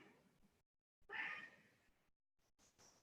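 A cat meows indoors in a quiet room, one drawn-out mid-pitched call followed after a pause by a couple of thinner, fainter cries.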